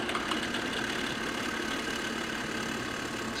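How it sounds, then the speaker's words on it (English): A drill with a bit boring into scrap wood drones steadily at a constant pitch throughout, loud and close, with no talking. "I'm going to drill for the butt end"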